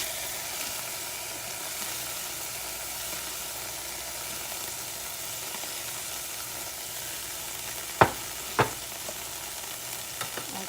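Beef pieces sizzle and fry steadily in a hot skillet alongside potatoes for a one-pot meal, with a constant broad hiss and a couple of sharp utensil clanks as pieces are flipped over.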